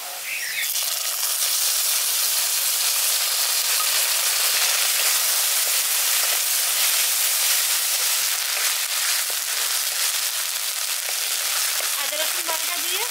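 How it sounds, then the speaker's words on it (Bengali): Ginger-garlic paste sizzles in hot oil with onions already fried reddish-brown in a pan for a village-style carp fish curry; a loud, steady, close hiss runs unbroken from start to finish. "আদা রসুন বাটা দিয়ে ভালো করে আমি একটু কষিয়ে নিচ্ছি"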